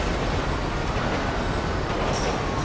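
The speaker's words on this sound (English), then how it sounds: "Oh, the train almost hit me." A train in the video game GTA 5 rumbles past close by, a continuous loud, broadband roar that stays steady throughout, with no talking.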